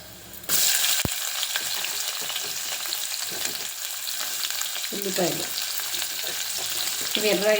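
Whole spices and cumin seeds frying in hot oil, a loud steady sizzle that starts abruptly and carries on, with occasional stirring scrapes of a spoon in the pan.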